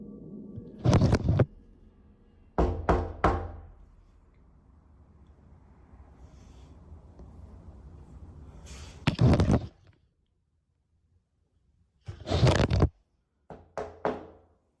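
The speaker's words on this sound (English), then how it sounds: "every time we've knocked before, this doorknob would turn a little bit" Knocking on a door, in several short bursts of sharp, loud raps with pauses between them, each burst a quick cluster of hits close by, with no speech.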